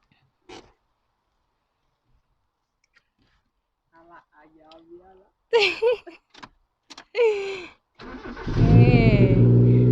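A car sits quiet while people chat in scattered bursts. Then its engine cranks and fires up near the end, settling into a strong, loud running roar with a revving surge.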